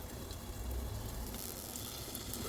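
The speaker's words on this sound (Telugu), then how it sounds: "ఇప్పుడు ఎగ్ కొంచెం ఆయిల్లో ఫ్రై అయిందో చూద్దాం." Egg frying in a little oil in a covered pan for egg puff filling, a soft continuous sizzle with faint crackle, close and steady throughout with no talking.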